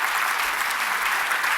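An audience claps steadily as guests walk up onto a stage at a talk event, dense sustained applause filling the room without pause.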